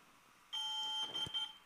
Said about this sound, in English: once you start that and you hold it down, you'll hear a beep